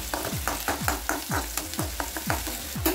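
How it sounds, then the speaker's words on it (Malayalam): Garlic frying in oil in a pan for Malabar onion rice, a quiet sizzle punctuated by a regular series of scraping stirs, about three strokes per second. "ചെറിയത് കൂടെ നമ്മൾ വെളുത്തുള്ളി കൂടി ചേർത്ത് കൊടുക്കുന്നുണ്ട്"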